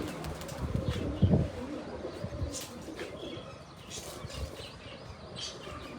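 Pigeons coo softly nearby with a brief flutter of wings, against a low, muffled background.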